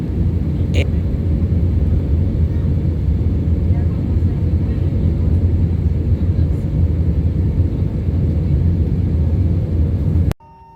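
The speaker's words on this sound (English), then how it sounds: "the plane about to land" Loud, steady low roar of an airplane coming in to land in Atlanta, Georgia, rumbling continuously before cutting off abruptly at the end.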